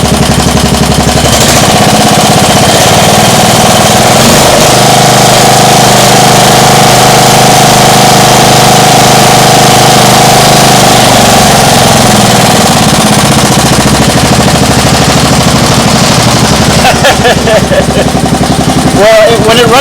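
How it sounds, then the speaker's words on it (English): A small engine runs at full throttle, loud and close, a harsh continuous roar with a rattling knock that holds steady and then wavers near the end, with a voice faintly under the noise. "Well, when it runs full throttle, it's not that quiet anymore."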